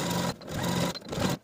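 A sewing machine topstitches 1/8 inch below the yoke seam of a woven dress bodice, whirring in two steady runs with brief stops between them, close and clear with no talk.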